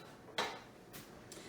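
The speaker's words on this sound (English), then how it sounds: "So let me clean off my pastry blender." Metal pastry blender scraped clean with a spoon while making muffins with streusel topping, a few quiet metallic clinks and scrapes, faint and without talk.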